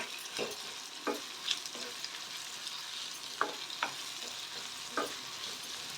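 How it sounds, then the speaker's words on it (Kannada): Curry leaves and fresh coriander fry in a pan for a red chutney, with a soft continuous sizzle. Scattered sharp scrapes and taps from stirring recur every second or so. No voices. "ಕರಿಬೇವನ್ನು ನಾನು ಸೇರ್ಕೊತಾ ಇದ್ದೀನಿ ಹಾಗೆಯೇ ಸ್ವಲ್ಪ ಕೊತ್ತಂಬರಿ ಸೊಪ್ಪನ್ನು ಸೇರಿಸ್ಕೊತಾ ಇದ್ದೀನಿ ಇದು ಸ್ವಲ್ಪ ಫ್ರೈ ಆಗಬೇಕು"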